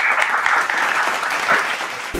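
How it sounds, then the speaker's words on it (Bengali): Steady audience applause for a contestant on a spelling reality show, dense and even throughout, fairly loud and without talk. "জোর হাততালি"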